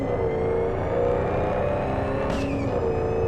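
A car engine in the video game Cyberpunk 2077 drones loudly and steadily at high revs, with a brief whooshing swell near the end and no talking.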